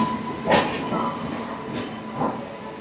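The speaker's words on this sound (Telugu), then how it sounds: "చూడండి, మన ట్రైన్ కూడా వచ్చేస్తుంది" Lokmanya Tilak Express rolling into a station, a steady low rumble of rail cars with a few hissing bursts and a faint tone over a busy platform, without speech.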